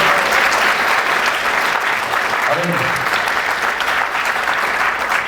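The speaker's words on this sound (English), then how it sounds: "Give them a round of applause" A forum audience at an awards gathering applauds the winners, steady and loud clapping from many hands, with a brief voice rising faintly beneath the noise midway through.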